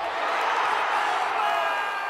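Crowd cheering for Skywalker during a podrace in a Star Wars prequel, a dense continuous roar of many voices, steady and fairly loud across the whole stretch with no distinct individual shouts.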